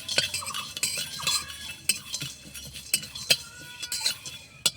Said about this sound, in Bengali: মৌরি, দারচিনি সুন্দর করে লেড়ে ভেজে নেব।